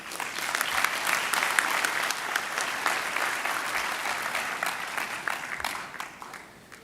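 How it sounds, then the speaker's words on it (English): Sustained audience applause at a university graduation ceremony, a dense, steady wash of many hands clapping in a large hall that fades slightly toward the end. "Please give Prof. Abdul Karim another round of applause"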